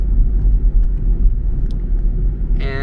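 A car cruising on the Shin Meishin Expressway in Japan: steady, loud low road rumble and engine drone from inside the cabin, with a brief higher tone near the end.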